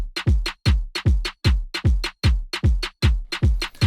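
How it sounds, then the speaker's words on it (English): Punchy kick and snare drums from an electronic NCS track, booming low kicks alternating with snappy snare hits in a tight, repeating pattern, loud and alone. "the kick and snare come in straight away"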